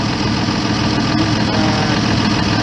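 A tractor engine idles during slurry spreading, a loud, steady low rumble with constant vibration and no break across the whole stretch, heard alone without speech.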